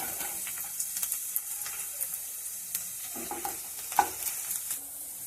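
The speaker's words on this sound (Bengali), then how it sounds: "এবার আমি দিয়ে দেব রসুন কুচি" Chopped garlic hits a pan where ginger is already frying, giving a steady, fairly quiet sizzle with scattered crackles and a few stirring scrapes. No one speaks.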